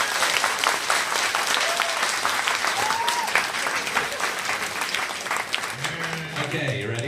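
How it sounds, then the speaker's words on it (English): Audience applause at an author's drawing event, steady clapping throughout with a few voices and a child's call rising over it before talk resumes at the end. "We should have given him a round of applause for Frankenstein."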